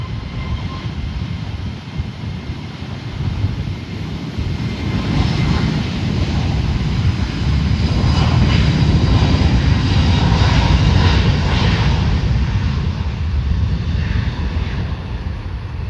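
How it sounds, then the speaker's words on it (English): A Frontier Airbus A321neo jet roars through its takeoff from the north side of San Juan airport near runway 10, a loud, sustained engine rumble that swells toward the middle and stays strong throughout. "Followed by the Frontier A321 Neos taking off at the north side"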